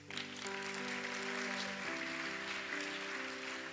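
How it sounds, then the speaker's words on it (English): A church congregation applauds as a steady wash of many hands, with sustained organ or keyboard tones ringing underneath throughout. "Since you got the applause going"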